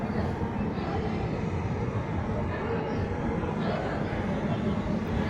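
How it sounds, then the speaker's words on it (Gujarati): The 19571 Porbandar Express passenger train, running from Rajkot to Porbandar, passing at Jetalsar junction, a steady loud rumble and roar of wheels and engine that holds without a break, with a voice talking over it. "સામેની ટ્રેન દેખાય છે ને એ 19571 પોરબંદર એક્સપ્રેસ છે"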